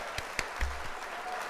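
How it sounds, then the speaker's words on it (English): Applause sound effect dropped into a livestream, a brief burst of clapping lasting about a second and a half, moderately quiet, with no talking over it. "I got to put the applause in there."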